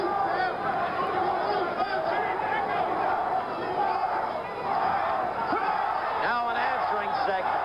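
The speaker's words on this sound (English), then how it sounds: "There's a segment of the crowd here that keeps chanting" A boxing crowd at a 1977 heavyweight bout, with a section of the arena chanting a fighter's name. It is a steady, loud, dense roar and babble of many voices, carried on throughout with a commentator speaking over it.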